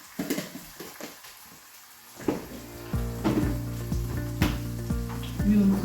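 Ginger garlic paste and chilli powder sizzling in a chicken curry: a quiet hiss at first, then the frying swells louder after a couple of seconds, broken by several sharp spoon clinks and stirring knocks, with a steady hum underneath and no talking.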